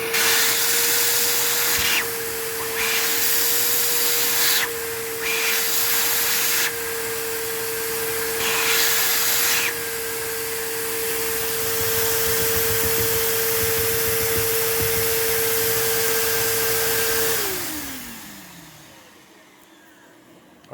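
A vacuum cleaner runs with a steady motor whine while its hose suction is tested, the airflow rising and falling as the hose is blocked and opened, then the motor winds down and stops.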